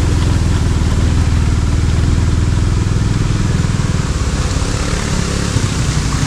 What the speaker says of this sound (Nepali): मेरो बाइक पनि धेरै कुद्दैन